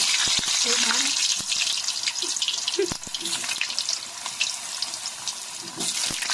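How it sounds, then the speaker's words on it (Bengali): Large potatoes dropped into very hot oil set off a loud, continuous bright sizzle and bubbling, with a few sharp clicks of handling and a voice speaking briefly over the frying. "তেলটা প্রচন্ড গরম হয়ে গেছে, এবার আমি এর মধ্যে দিয়ে দেবো বড় বড় সাইজের আলু"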